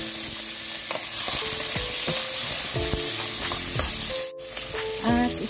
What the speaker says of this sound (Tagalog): Magluto na tayo ng bawang at luya.